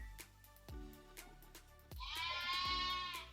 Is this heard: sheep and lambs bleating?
yes